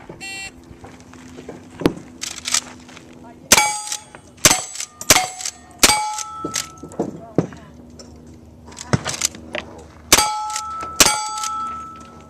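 Cowboy action shooting at steel targets: a string of sharp gunshots, each followed by a ringing metallic clang from the struck steel, coming in quick irregular bursts over about ten seconds, with voices nearby.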